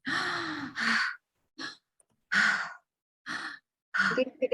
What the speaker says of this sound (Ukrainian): Я глибоко вдихаю.